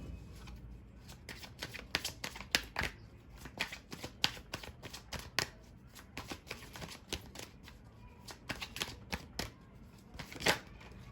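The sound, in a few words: tarot cards being shuffled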